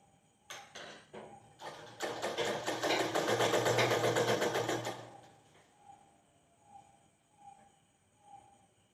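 A sewing machine stitches a pressed fold in fabric for pleated knickers. Two short starts give way to a fast, steady run of stitching lasting a few seconds, then it stops and leaves quiet ticking.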